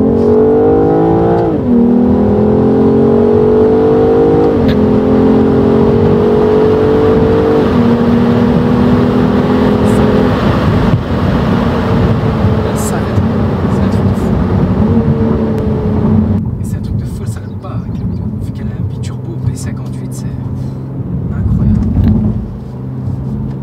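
A BMW M440i accelerates hard down a straight road, its engine note climbing through several gear changes with loud rising revs and dips between shifts, heard close from the cabin while people talk over it.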